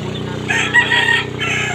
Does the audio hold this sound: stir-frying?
no